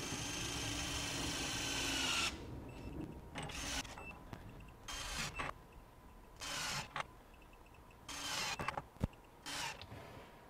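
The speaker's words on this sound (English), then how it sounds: "we're going to tighten these fasteners starting at 50 foot-pounds with our torque gun" Cordless torque gun tightening nuts and bolts starting at 50 foot-pounds, a loud whirring run at first followed by a series of short bursts separated by pauses, close up.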